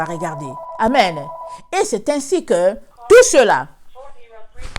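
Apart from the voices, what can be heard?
telephone ringing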